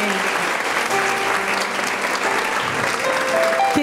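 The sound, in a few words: applause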